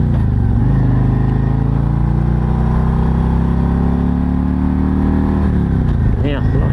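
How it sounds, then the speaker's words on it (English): Exhaust of a Harley-Davidson RG3 on the road, heard close and loud. The engine note climbs as it revs, holds a steady drone, then shifts again near the end. "I don't know how much that sound from the exhaust the mic's picking up"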